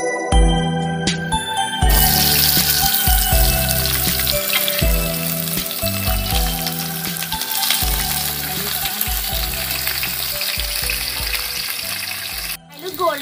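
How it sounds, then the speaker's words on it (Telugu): Cinnamon and cloves fry in hot oil in a pot for an egg potato biryani, making a continuous, loud hissing sizzle over a repeating low rhythmic background tone. "దాల్చిన చెక్క, లవంగాలు వేయాలి."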